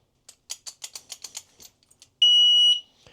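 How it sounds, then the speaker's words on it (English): A 130 dB bike chain lock alarm gives a rapid run of short chirping beeps, then one loud sustained electronic beep lasting about half a second as it arms, close and piercing. "That loud beep lets me know that it is armed."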